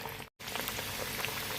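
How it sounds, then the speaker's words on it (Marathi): Chana dal vadas deep-frying in hot oil over a low-to-medium flame, giving a steady close bubbling hiss with scattered crackles, briefly cut by a short dropout. "वडे मंद गॅसवर तळून घेऊया"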